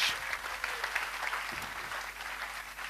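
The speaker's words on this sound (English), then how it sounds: "Please give her a round of applause" Conference audience applauding a speaker's slide at a talks event, a continuous, fairly soft wash of many hands clapping from across a hall, with faint murmurs underneath.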